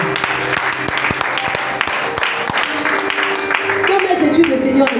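An audience at a youth seminar applauds in praise of the Lord, sustained loud clapping from a crowd, with voices and cheers mixed through it.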